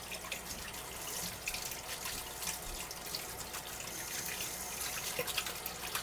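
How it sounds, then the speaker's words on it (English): Water runs steadily from a kitchen sink tap while hands are washed beneath it, a close, quiet hiss with small splashes and no talk. "So, I'm going to go over to my sink here,"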